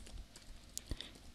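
Typing on a computer keyboard while building an event calendar web layout: a handful of faint, sparse key clicks, a couple sharper taps standing out, in a quiet room with no talk.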